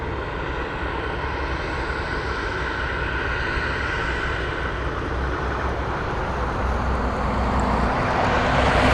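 A Boeing 747 arrives at Anchorage airport as a loud, steady jet engine roar that swells slightly toward the end, with no talking.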